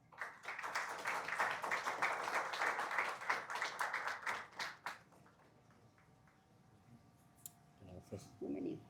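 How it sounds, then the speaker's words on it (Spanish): An audience at a gastroenterology endoscopy session claps to welcome a speaker: a burst of moderate, close applause for about five seconds that thins to a few last claps, then a quiet pause and a voice speaking. "Un aplauso,"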